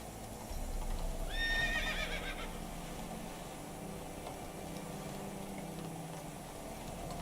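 Roach the horse in The Witcher 3 lets out a loud, close, wavering neigh over a steady rumble of galloping hooves, which carries on under game ambience after the whinny ends.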